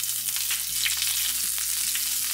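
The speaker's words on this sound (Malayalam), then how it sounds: "ഒരു പാൻ വെച്ച് ചൂടാക്കിയിട്ട് വെളിച്ചെണ്ണ ഒഴിച്ച് നമുക്ക് ഫ്രൈ ചെയ്തെടുക്കാം. ഇതിലേക്ക് കുറച്ച് കറിവേപ്പില ആദ്യം ഇട്ട്" Curry leaves fry in hot coconut oil in a pan, giving a steady close sizzle and crackle with no talking.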